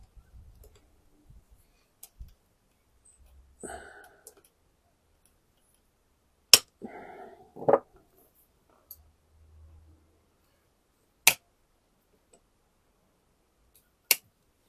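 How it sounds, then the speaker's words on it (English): Bonsai wire is cut with wire cutters in a few sharp, isolated snips spaced several seconds apart, close and crisp, with faint handling rustle between them in an otherwise quiet setting. "I'm just going to cut the wire first."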